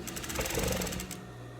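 A sewing machine stitches red viscose fabric for a dress, its rapid steady needle chatter loud and close for about a second before stopping.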